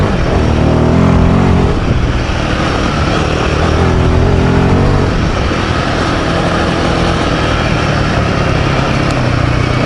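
A Royal Enfield Himalayan 450 motorcycle being ridden, its engine droning steadily and loudly with heavy wind rush throughout, no voices present.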